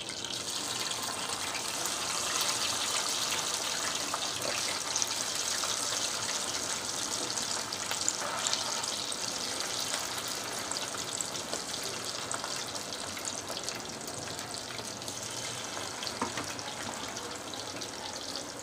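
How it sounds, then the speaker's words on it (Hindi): Chicken boti pieces fry in hot oil with a constant, moderately loud hiss and sputter that runs evenly throughout, with no talking. "अब इसको उसी तरह से फ्राई कर लेंगे इसी तरह से सारे चिकन फ्राई कर लेंगे"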